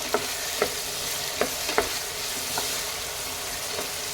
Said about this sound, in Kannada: 3 ಟೊಮೊಟೊ ಇದು ಸ್ವಲ್ಪ ಬಾಡಬೇಕು.